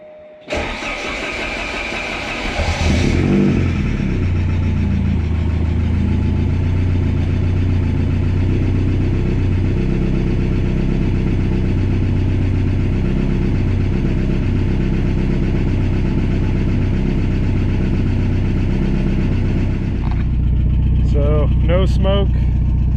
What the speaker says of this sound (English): I'll get a cold start of it, let it warm up, and then get a little bit of video of the engine running